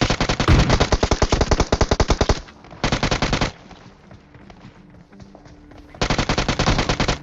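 Rapid automatic gunfire from the battle royale game PUBG, likely an M16, comes in loud sustained bursts separated by quieter stretches of distant shots and game ambience, with no talk.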